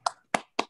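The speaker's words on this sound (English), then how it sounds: "sort of a round of applause for the presenter" Three separate hand claps spaced evenly apart, close and fairly quiet, from a single listener applauding a presenter at the end of an online academic session.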